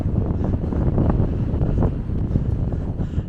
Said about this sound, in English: The sound of whistling through my ears.